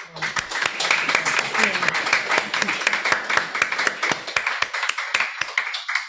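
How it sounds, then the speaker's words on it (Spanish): A conference audience claps after a talk on gender, individual hand claps standing out sharply in a fairly small crowd, keeping an uneven but continuous patter throughout with faint voices underneath. "un gran aplauso"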